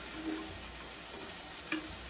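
Chicken breast pieces cooking in a very hot stainless steel pan give off a steady, close sizzle with brief stirring clatters, heard alone without talk.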